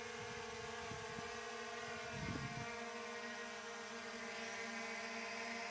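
SJRC F22S 4K Pro drone descending in strong wind, a steady high-pitched whine of small rotors with tonal hum, heard throughout at a faint, even level with a brief low gusty burst of wind.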